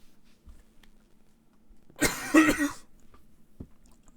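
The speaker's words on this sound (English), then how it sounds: "Yep, I just coughed." A single short, sharp cough close by in a quiet charity shop, followed by a faint soft thump.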